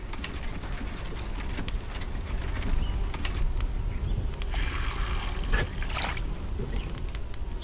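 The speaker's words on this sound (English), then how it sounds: "Oh, it started to rain" Rain falls in the video game SolarPunk as a steady, close, broadband patter with scattered drips and trickles, swelling into brief brighter splashy bursts partway through, with no voices over it.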